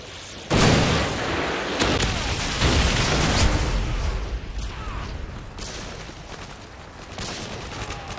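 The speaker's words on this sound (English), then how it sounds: "Missile inbound." In a team deathmatch on the Quarry map, a missile strikes with a sudden loud boom, then a dense, rumbling barrage of gunfire and blasts carries on for several seconds.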